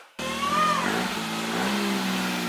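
A K-swapped Honda Civic engine fires up and runs loud and close, settling into a steady idle hum with a brief rise in revs early on.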